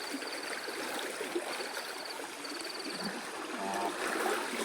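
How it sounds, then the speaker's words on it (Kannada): Forceful stream water rushing at night in a wooded area, a steady continuous wash of flow heard close by with faint insect or frog chirps scattered over it. "ಇಲ್ಲಿ ಯಾಕೋ ನೀರು ಜಾಸ್ತಿ ಆದಂಗಿಂಟು ವಾಪಸ್ ಹೋಗೋದು ಒಳ್ಳೇದು ಅನಿಸುತ್ತೆ"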